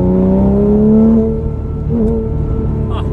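Porsche Cayman S 987.1 engine heard from inside while driving, a loud close tone rising then easing off as revs drop, followed by steady cruising drone.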